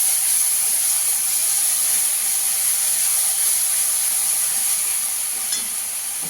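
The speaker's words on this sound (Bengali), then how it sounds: "ভালো করে মশলাটাকে একটু কষিয়ে নেবো।" Ginger, garlic and onion paste with green chilli fries in a pan for egg mughlai, giving a steady, bright sizzling hiss that stays even and close, with no voices over it.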